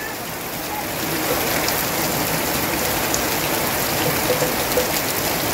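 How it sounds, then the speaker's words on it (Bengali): Heavy torrential monsoon rain pours down in a dense, unbroken hiss that swells after the first second and stays loud and steady, with pattering drops on nearby surfaces. "ব্যাপকভাবে মুষলধারে বৃষ্টি হচ্ছে।"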